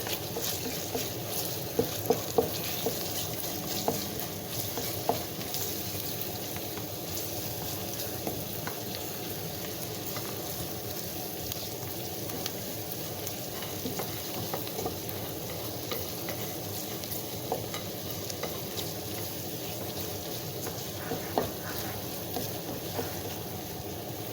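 Börek filling of spinach with tomato paste and black pepper sautéing in a pan, a steady dense sizzle and crackle with occasional stirring scrapes and clicks, close and continuous without talk.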